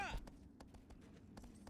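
A horse gallops in Shadow of the Colossus on PS3, its hoofbeats a few muffled thuds at an uneven pace. A voice speaks briefly at the start.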